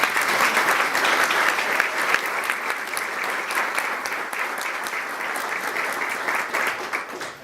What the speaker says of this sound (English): I think we owe these women another round of applause.